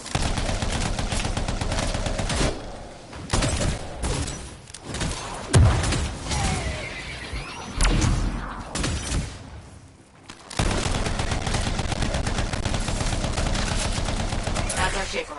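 Gunfire in the Anthem video game, rapid automatic bursts in dense stretches broken by short pauses and a few heavy thuds, loud and close, with some talk mixed in.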